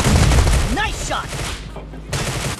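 Gunfire in PUBG Mobile team deathmatch: a dense, loud burst of rapid automatic shots, then a brief lull and another burst, with a game voice line cutting through.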